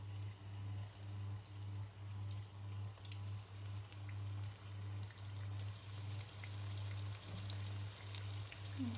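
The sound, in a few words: snacks frying in oil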